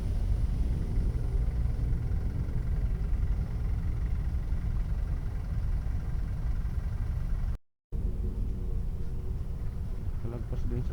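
Steady low rumble of car engines in heavy road traffic on Cassimiro A. Ynares Sr. Boulevard (C-6), heard from a motorcycle taxi, continuous and close with a brief dropout near the end.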